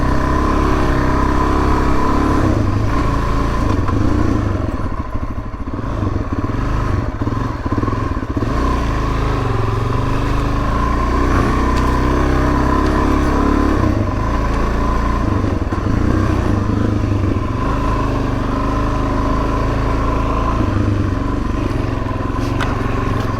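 A 2019 Suzuki DRZ 400S motorcycle rides along a sandy old track, its engine a loud, constant close drone that dips briefly and then holds steady throughout.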